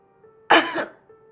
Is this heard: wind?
no